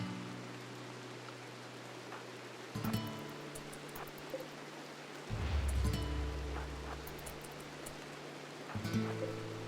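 Steady rain falls outside in the colony game Rimworld, a soft continuous hiss with low rumbling swells and brief louder surges, no voices over it.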